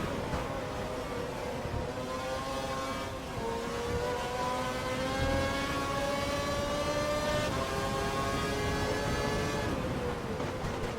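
Formula 1 car engine noise from an F1 career-mode video game at the Malaysian Grand Prix, a steady high-pitched whine rising and falling through gear changes, continuous and fairly loud for the whole stretch with no talk.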